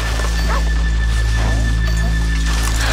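Horses in Red Dead Redemption 2 give a few short whinnies and snorts over a dense, loud ambient rumble, with faint hoof movement in between.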